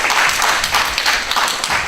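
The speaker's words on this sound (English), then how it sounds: "everybody give yourself a round of applause" A crowd applauds with a dense, steady patter of clapping that holds for a couple of seconds.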